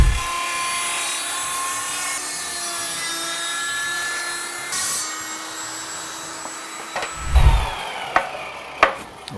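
Table saw cutting an oak recipe box in a woodworking shop, a steady whining blade drone that tapers off, followed by a few sharp knocks and clunks as the wood is handled.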